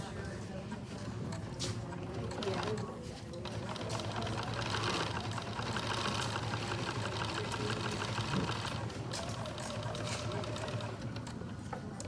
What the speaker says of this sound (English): I just use plain thread and whatever needle I happen to have in my machine.